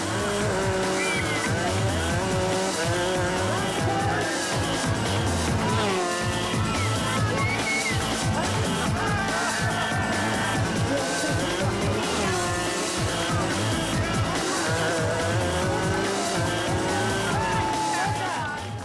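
Battery-powered race cars lap a track with squealing tyres, a loud continuous motor whine that rises and falls as they circle, with no speech.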